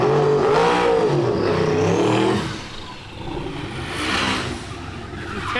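A car at a street drag racing event accelerates hard with a loud engine roar that fades as it pulls away, followed by a quieter, distant engine hum.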